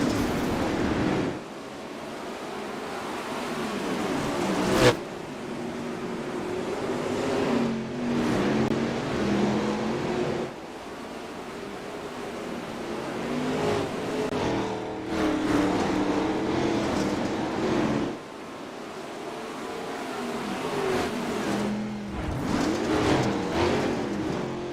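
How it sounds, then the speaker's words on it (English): Several 360 wingless sprint cars race around the dirt oval at Volusia, engines roaring steadily with rising and falling surges as the pack passes, loud and continuous with no talk. "The 360 sprint cars."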